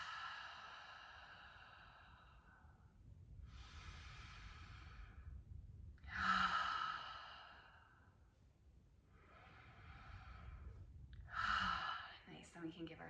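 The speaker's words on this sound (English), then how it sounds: "Taking some big slow breaths in, and some especially slow breaths out." A person takes big, slow, deep breaths during yoga: five long, airy inhales and exhales in an even rhythm, close and soft, with quiet pauses between them.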